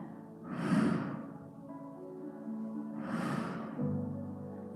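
Two loud, breathy exhalations about three seconds apart during a seated resistance band chair workout, each a forceful sighing whoosh close to the mic, with a steady background hum in between.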